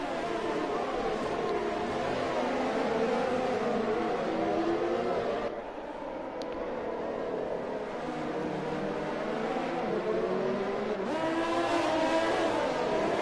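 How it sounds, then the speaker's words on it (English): Formula 1 race cars in a racing video game at the Hungary round roar past in a close train, their engines droning and revving continuously with rising and falling pitch, with no talk. "It's an absolute train of Formula 1 cars within 2 seconds of each other."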